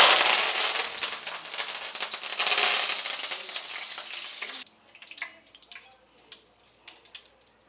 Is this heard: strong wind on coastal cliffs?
no